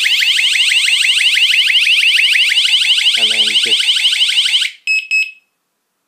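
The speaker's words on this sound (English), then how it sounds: "And if you set it to alarm," A 1Byone Driveway Patrol wireless alarm in alarm mode gives a loud, continuous, rapidly pulsing screech for several seconds, then stops abruptly with two short final bleeps; a brief voice murmurs underneath.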